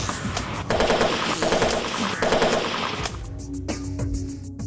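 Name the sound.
machine gun firing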